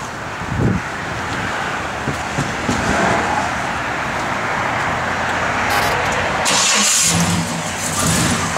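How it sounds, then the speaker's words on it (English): A 1970 Chevrolet Chevelle SS Convertible engine turns over and settles into a loud, continuous rumbling idle close by, with faint shifts in tone as it runs. "Have Jay fired up"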